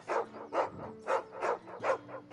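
A dog in the video game Final Fantasy XVI barks repeatedly in a steady rhythm, six or so sharp, mid-loud barks spaced about half a second apart, close by with a faint background hum.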